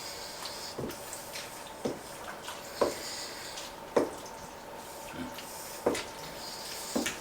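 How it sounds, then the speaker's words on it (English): Noodles being stirred into a turkey casserole, soft wet squelching and scraping strokes at a slow, fairly regular pace, close and quiet with no speech. "Alright, just give it a stir."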